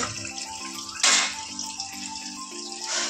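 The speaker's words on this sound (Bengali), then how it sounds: "জলটা পড়ুক, ওই শাকটাকে ভালো করে একটু ধুয়ে নিই" Tap water runs to wash leafy greens, a steady close splashing stream with a louder gush around one second and a smaller surge near the end.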